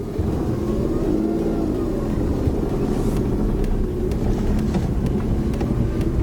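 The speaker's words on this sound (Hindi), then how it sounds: "एक बार इंजन की नॉइज भी सुन लेते हैं, तो अच्छा खासा साउंड हमें बाहर सुनाई दे रहा है।" Renault Kwid mini hatchback with over 30,000 km engine running, heard from outside as a steady low drone with wind buffeting the microphone throughout.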